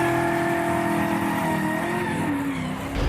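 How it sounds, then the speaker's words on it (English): A car launches from an alley and accelerates hard, rear end fishtailing, with a sustained loud engine roar and tire squeal that stays close and steady throughout. "I heard the car launch itself from the alley"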